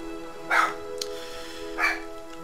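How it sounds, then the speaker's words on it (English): Pet dogs yip twice in short, sharp bursts, slightly distant and fairly faint, above a steady tonal background hum. "my dogs, anytime something happens outside, they get very excited. And they kind of like yip and yap a little bit"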